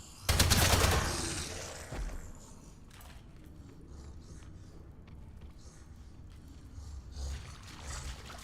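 A short burst of SMG fire in the video game Atomfall crackles loudly at the start, followed by quieter ambient game noise and scattered faint sounds.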